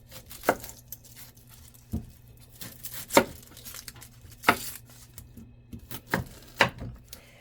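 A kitchen knife chops an onion on a cutting board in a home kitchen, giving about ten sharp, separate cuts at an uneven pace, close and clear over quiet room noise.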